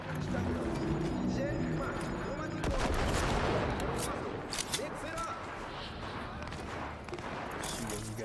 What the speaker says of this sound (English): There's gunfire over there.